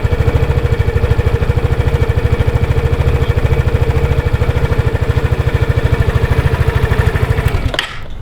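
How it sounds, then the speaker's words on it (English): A 2015 Vespa GTS 250 scooter engine idles close by with a smooth, even, rapid putter and a steady low hum, then cuts off abruptly near the end. "Very smooth engine, very quiet as well."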